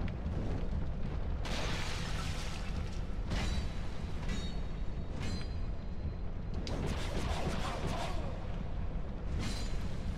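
A bomb going off in Dark Souls 2, heavy rumbling blasts that come in several loud bursts over a dense, roaring low-end background with no clear gaps.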